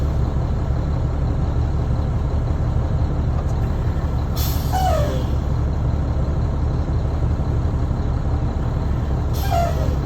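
A truck's air brakes releasing as the brake pedal is fanned during a CDL brake test, two sharp hissing bursts over a steady idling diesel engine rumble, close and loud.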